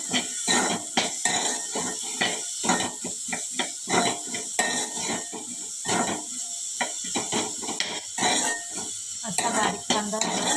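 Thinly sliced onion is sautéed in a pan for a mixed vegetable curry. A spoon scrapes and clatters against the metal in rapid, irregular strokes over a soft steady sizzle.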